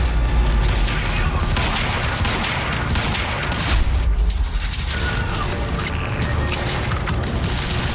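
Heavy gunfire rattles through a Quantum Break firefight, continuous loud bursts and booms layered over mechanical clatter with no pause across the stretch.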